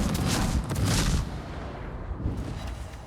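Ship guns fire at transports in a naval video game battle. Dense booming blasts cluster over the first second, heavy and distant-sounding, then thin out into a softer rumbling tail with another faint burst near the end.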